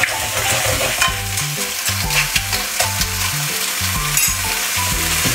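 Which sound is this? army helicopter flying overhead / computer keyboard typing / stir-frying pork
stir-frying pork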